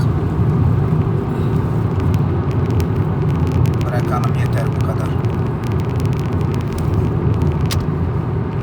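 A Hyundai Accent Blue 1.6 diesel hatch with 128 hp and a manual gearbox accelerates hard, its engine droning steadily with deep road and tyre rumble from inside the cabin while someone talks over it.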